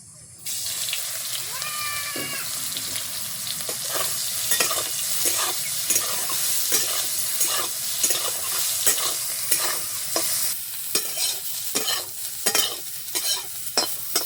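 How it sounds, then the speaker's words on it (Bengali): Soya chunks fry in hot oil in a home kitchen, a steady close sizzle broken by repeated scrapes and clinks of a spatula stirring in the pan, with a brief voice near the start. "তেল গরম হয়ে গেছে, দিয়ে দিব সয়াবিন"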